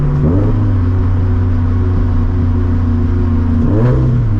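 A 400hp turbocharged Scion FRS engine drones loudly under boost, its exhaust booming in a deep, steady rumble from inside the car, rising briefly at the start and again near the end as the revs climb.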